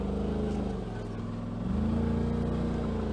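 A 2018 Turbo RZR side-by-side on 32-inch Tusk Terrabite tires at 12 PSI creeping along at about 3-4 mph, its engine droning steadily and close, with a slight rise in pitch partway through.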